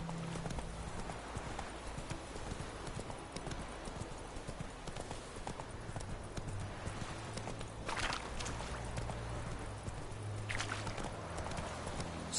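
A horse trots in The Witcher 3 with a steady, even clip-clop of hooves on firm ground, close and continuous over low ambient wind and background hum.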